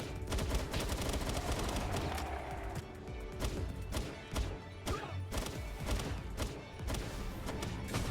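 Rapid assault rifle gunfire in a shooter game, dense bursts of sharp shots fired close and loud with brief pauses between strings.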